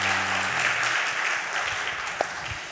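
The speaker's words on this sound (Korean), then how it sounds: "환영의 박수 한번 하도록 하겠습니다." A church congregation claps in welcome for a newly registered family during a Sunday service, a steady wash of applause that starts with a low hum beneath it and carries on evenly with one sharper clap near the end.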